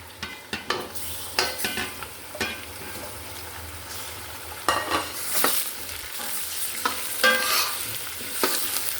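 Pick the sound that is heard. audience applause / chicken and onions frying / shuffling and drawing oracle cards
chicken and onions frying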